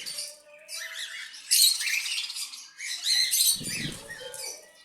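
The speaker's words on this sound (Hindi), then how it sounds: "ये तोता भी आ गया मेरा।" A pet parrot flaps its wings as it flies in and lands, giving close bursts of fluttering with a few squawky chirps and a soft thump near the end.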